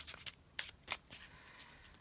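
Tarot cards are shuffled softly and close up during a reading, with irregular crisp riffles and light slaps, quiet and alone with no voice.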